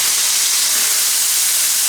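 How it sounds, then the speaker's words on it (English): Onions saute in a pan for hamburger steak gravy, giving a loud, steady, close sizzle and hiss that holds evenly without pause or talk. "you're just going to saute your onions until they start getting soft and translucent"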